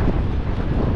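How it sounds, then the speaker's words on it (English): Strong wind buffets the microphone on the Blackpool seafront, a loud, continuous rumbling roar. "Well, it's really, really windy."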